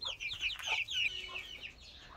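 Hens clucking inside a backyard chicken coop, a close cluster of quick, bright clucks and squawks for about a second that then trails off into quieter scattered calls.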